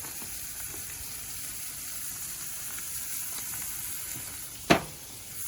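A burger patty sizzles on a Big Green Egg grill, a steady hissing fry that carries throughout, broken by one brief sharp knock near the end.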